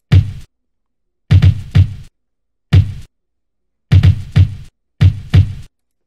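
Swung lo-fi drum groove from FL Studio: dull thumping hits in groups of one to three with slightly delayed offbeats, gaps of silence between, giving a loose bouncing feel.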